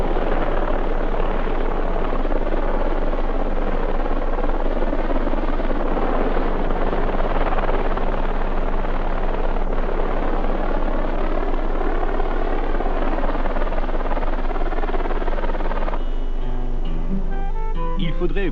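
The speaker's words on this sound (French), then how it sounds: "Il a du mal l'hélico là." A helicopter's rotor thumps loudly and continuously close by, with voices talking over the engine noise, the helicopter struggling.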